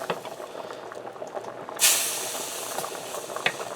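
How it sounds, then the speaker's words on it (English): A sudden hiss erupts as hot browned flour hits boiling water for potato soup, settling into steady bubbling and sizzling, fairly close with a faint click near the end. "That water's boiling and it's still sizzling because of the flour being so hot."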